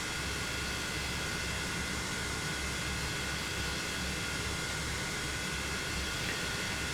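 An SC Designs F-5 Tiger II jet in Microsoft Flight Simulator, canopy open after a cold start, roars with a steady, dense turbine rush and a high whine as it begins to roll, loud and unchanging throughout.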